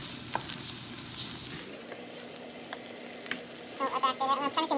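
Bacon sizzling in a pan on the stove, a steady crackling fry that shifts as strips are moved, with brief utensil clinks near the end; no talk.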